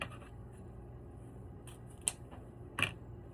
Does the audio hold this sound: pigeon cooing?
no